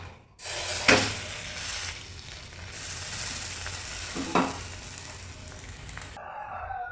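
Paalaada rice batter sizzles steadily on a hot pan, a continuous close frying hiss with a couple of brief louder bursts as the batter is handled, no voices.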